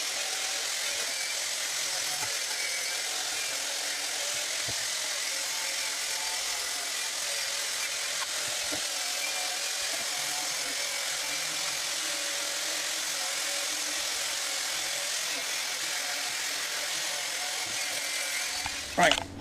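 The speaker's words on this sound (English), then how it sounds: "clean it all up as best I can with the wire wheel, get all the flaky rust off" A continuous high-pitched whirring and grinding of a wire wheel scrubbing flaky rust off metal parts of a Yamaha DTR 125 motorcycle, steady and loud for the whole stretch, with a clunk at the end.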